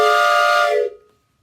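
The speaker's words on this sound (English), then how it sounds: "I bet if he asked, they would blow the whistle." A storybook-style steam train whistle blows one long, loud, steady hoot lasting about a second, then cuts off and fades into silence.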